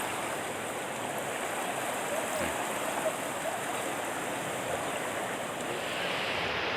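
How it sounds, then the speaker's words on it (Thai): Strong flood water rushing during a tropical storm, a loud constant roar of flowing water close by with no break, and a faint wind-like hiss over it. "น้ำเต็มหมดเลย โอ้ยมาแรงมากๆเลย"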